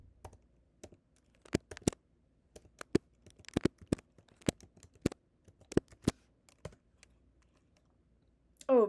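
A password is typed on a computer keyboard, producing quiet, irregular key clicks in short bursts and single taps, with no talk.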